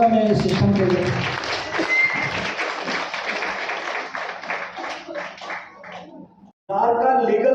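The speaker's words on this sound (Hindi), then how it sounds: "और एक बार जोरदार तालियां चाहूंगा मैं इस सिस्टम के लिए।" An audience claps together in a sustained round of applause that gradually thins out, followed by a sudden return of voices.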